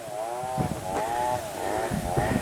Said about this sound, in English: somewhere in the distance there you can hear a chainsaw